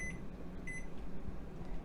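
A kitchen timer set for coffee gives two short, high electronic beeps close by, about half a second apart, over a steady low background hum.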